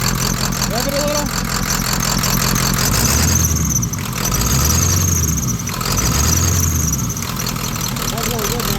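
Ford OBS 7.3 Powerstroke diesel engine running close by and loud, revving three times in a slow rising and falling pattern over a steady drone, with a high squeal throughout.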